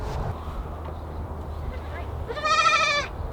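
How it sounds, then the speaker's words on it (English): A baby goat lets out one short, loud, wavering bleat close by near the end, after a stretch of quiet outdoor background with faint rustling. "Let's go get a baby goat."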